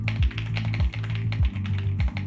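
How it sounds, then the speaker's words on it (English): A budget VSD Inside computer keyboard in a gaming and streaming setup clatters with rapid, fairly loud key taps in a steady, close typing rhythm, with no voices. "So we have this keyboard which is called VSD Inside."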